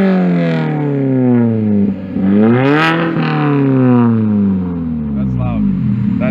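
A Mini Cooper S with a muffler delete revs hard up close, its raspy engine note climbing and falling in pitch over several seconds, while people talk over the noise.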